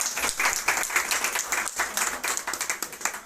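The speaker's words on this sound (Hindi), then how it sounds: "ऐसे राष्ट्रीय संयोजक जी का हम तालियों से स्वागत करते हैं।" An audience at a Rani Lakshmibai birthday celebration claps to welcome a national coordinator, a close, lively burst of applause with a pulsing, near-rhythmic beat that lasts about three seconds.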